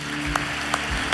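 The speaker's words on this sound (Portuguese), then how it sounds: "Podemos aplaudir o Rei?" Church congregation applauding, a brief burst of clapping with a few sharper claps standing out over a low hum and room tone.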